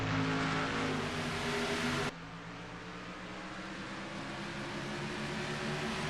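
Stock race cars roaring around Richmond in a racing video game, a steady loud engine drone that drops abruptly in level partway and then holds at a lower, continuous hum.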